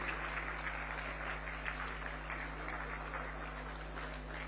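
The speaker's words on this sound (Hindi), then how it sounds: "A huge round of applause." An audience claps at an Uttar Pradesh–Japan investment conference in Lucknow, a steady sustained wash of applause heard slightly distant over a constant low hum, with no talk over it.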